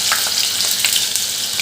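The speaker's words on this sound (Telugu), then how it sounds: "మిక్సీ పెట్టుకున్న కొబ్బరిని బెల్లాన్ని యాడ్" Grated coconut and jaggery fry in ghee in a pan for kobbari halwa, a loud, steady close sizzle with faint scraping stirs running throughout.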